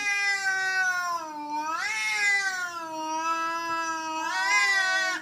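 Two cats yowl and caterwaul at each other in a fight, long wavering howls rising and falling close by and loud, continuous with no pauses.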